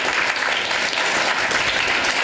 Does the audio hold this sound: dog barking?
no